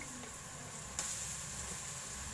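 Garlic, ginger and green chilli paste sizzles in a pan, a steady faint hiss that rises briefly when the paste drops in, then settles into a soft even frying sound.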